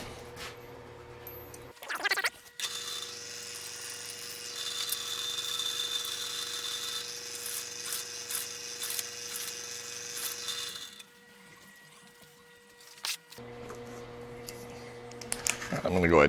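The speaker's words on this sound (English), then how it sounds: "I think we'll go ahead and drill those holes there" A power drill drilling holes in a flap handle part for a Zenith 701 airplane whines steadily for several seconds, stops, then starts again briefly, with some handling clatter around it.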